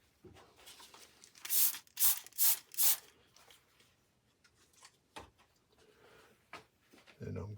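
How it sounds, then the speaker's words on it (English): Four quick bursts of a spray bottle hiss in a row, loud and close, spraying water onto model railroad scenery rocks, followed by quiet handling noises. "I need to spray some water on here to help"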